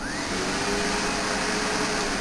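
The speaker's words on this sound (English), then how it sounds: "This is by far one of the best vacuums." A Sebo Automatic X4 upright vacuum cleaner, the residential Windsor machine, runs loud and close with a steady whirring motor drone and a high constant whine, with no pauses.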